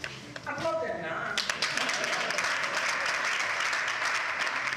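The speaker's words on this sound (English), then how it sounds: "Applaud them now." Audience at a commerce and industry event breaks into steady, moderately loud applause that builds after a moment of speech and then holds as a dense wash of clapping.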